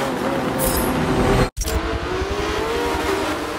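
Race cars launching off the start at Laguna Seca in Forza Motorsport 7, a dense engine roar that holds steady, breaks for an instant, then returns with rising revs and faint tire squeal, loud and close.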